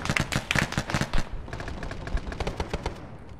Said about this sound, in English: we've got another rocket barrage literally hitting us right now